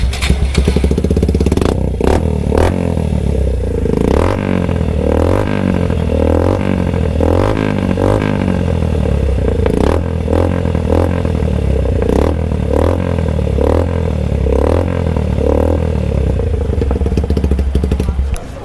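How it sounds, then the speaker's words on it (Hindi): Suzuki Gixxer SF 150 motorcycle with a fully modified carbon-finish plug-and-play exhaust, loud and close, giving a deep bassy idle with repeated revs rising and falling over the whole stretch. "तो ये था अपना एग्जॉस्ट का साउंड पूरा मॉडिफाइड"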